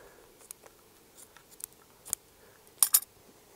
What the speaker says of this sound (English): I'll just cut that off.